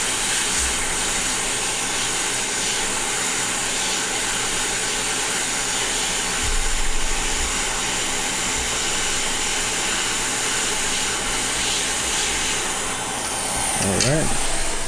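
A hot air rework station blowing at 70% airflow while pads on an RP2040 board are reworked, giving a steady broadband rushing hiss that holds for the whole stretch, with a brief whistling sweep near the end.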